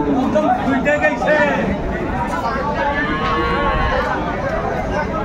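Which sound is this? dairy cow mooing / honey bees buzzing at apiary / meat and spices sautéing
dairy cow mooing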